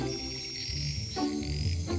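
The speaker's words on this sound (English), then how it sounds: "she's heading towards the noisiest call, because loud calls come from big frogs" Male tree frogs call to females in a forest at night, a chorus of short croaking and trilling notes repeating in uneven bursts, moderately close and steady with no talking.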